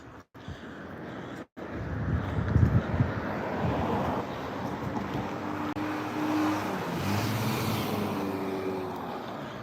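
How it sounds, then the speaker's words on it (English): Cars pass on a hillside road during a walk, a steady broad whoosh of traffic with wind buffeting the microphone, one or two vehicles swelling nearer midway before fading, no talk over it. "Whew, loud cars."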